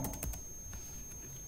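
Quick keystrokes on a computer keyboard come as a brief close burst of clicks, then a few scattered taps within about a second and a half.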